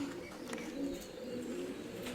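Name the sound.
pigeons cooing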